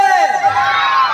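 A crowd at a live Bhojpuri stage show shouts and cheers together in a loud, sustained burst lasting about a second.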